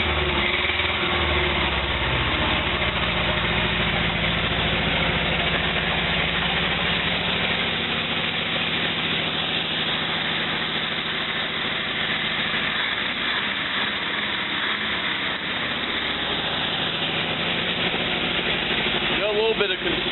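The used replacement engine in a 1949 Willys Jeep idles steadily for about twenty seconds, a close, continuous rumble with a slightly uneven beat and no talking over it.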